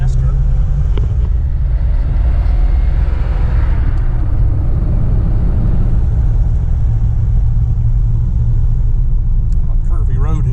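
A 1937 Packard 120 drives along a curvy road at low speed with a steady, heavy, low engine rumble filling the cabin throughout, and a voice faintly present over it.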